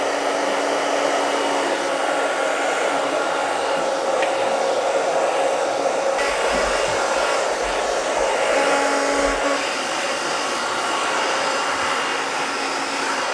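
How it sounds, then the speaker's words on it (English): A hair dryer fitted with a diffuser blows steadily while drying a client's curls in a barber or salon setting, a loud continuous whooshing drone with slight shifts in pitch as it is moved around the head. "I'm going to drop these curls into the diffuser and just work it around."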